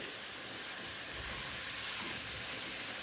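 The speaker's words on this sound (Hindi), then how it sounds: "तो चले इनको फ्राई करते हैं अच्छे से 2 से 3 मिनट" Potatoes fry with spinach in a pan, giving a steady, broad sizzling hiss that stays even throughout. No one speaks.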